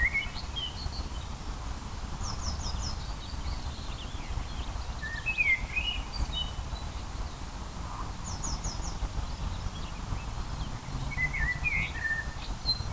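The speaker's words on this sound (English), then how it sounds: "just listening to the birds in the background." Scattered bird chirps and short trilling songs sound from a moderate distance in woodland over a low outdoor rumble, with no voices.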